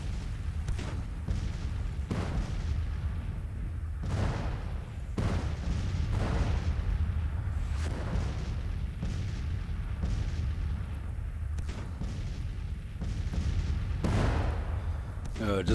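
Cannon fire and musketry rumble through a Civil War battle in a strategy video game, with repeated booming artillery shots and crackling volleys over a constant low roar, someone talking over the din.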